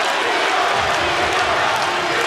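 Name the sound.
crowd cheering at a Metamoris grappling match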